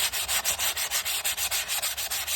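Wood is hand sanded with 220-grit sandpaper in quick, regular back-and-forth strokes, a close and steady rhythmic scratching with no voices.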